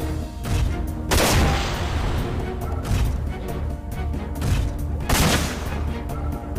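Video game gunfire from the mech combat of Front Mission 4 at a port stage: dense, loud bursts of shots and impacts in rapid volleys, with heavier blasts near the start and around five seconds.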